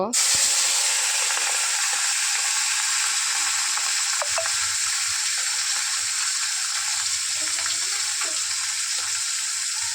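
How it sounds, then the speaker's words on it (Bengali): Small chuno fish sizzle loudly in hot oil, a dense, continuous crackling hiss held close and steady for the whole stretch, with a few light pops and scrapes. "এবার তেল গরম হয়ে গেছে মাছগুলো ছেড়ে দেব"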